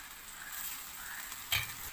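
Millet vegetable noodles with masala are stirred in a hot pan, giving a soft continuous sizzle and scraping, close and quiet, with one brief clank of the utensil against the pan.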